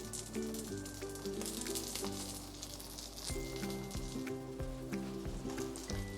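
Sliced sucuk and cherry tomatoes frying in a pan, a continuous crackling sizzle up close, quiet overall, with a steady tonal hum running underneath.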